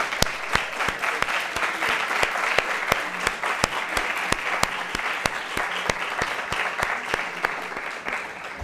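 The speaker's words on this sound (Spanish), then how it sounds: "haría un aplauso conjunto por vosotros" A university debate competition audience claps together for the speakers, a sustained even round of applause with individual sharp, close claps standing out above the dense patter for about nine seconds.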